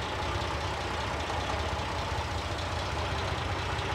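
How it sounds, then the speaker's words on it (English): A cold, carburetted 3.0-litre Porsche 911 Carrera engine idles slowly, a steady, close, fairly loud rumble with a low pulsing throb, running alone with no talk. "It's idling a little bit slow because it's cold."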